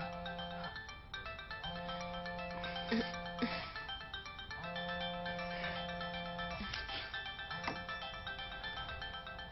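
A phone ringtone plays a repeating electronic melody in steady cycles, fairly loud and close, with no voices over it.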